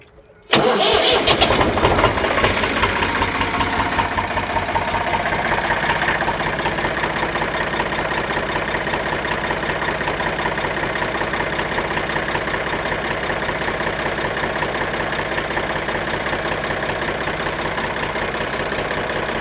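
An Eicher 485 tractor engine cranks and catches with a loud burst, then settles into a steady, rumbling idle that continues for a long stretch.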